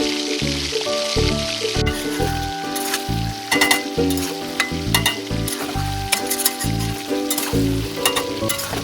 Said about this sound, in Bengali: মাংসটা কিছুটা কষানোর পরে ওর মধ্যে আমি হচ্ছে লঙ্কার গুঁড়ো একটু দিয়ে দিলাম